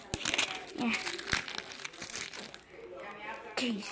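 Crinkly plastic packaging gets ripped and crumpled open up close, with loud rustling bursts while a voice talks over it.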